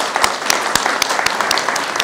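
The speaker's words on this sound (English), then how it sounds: "a round of applause." An audience at a community college event applauds, brisk close clapping with a few distinct loud claps landing in a regular beat over the wash of the crowd.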